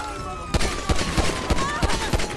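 Rapid gunfire rattles out in a GTA police game, a string of sharp shots in quick bursts over a steady background hum.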